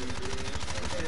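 Video game gunfire: a continuous rapid automatic stream of shots, dense and loud throughout the short stretch, with a steady rattling pulse and a faint tonal hum underneath.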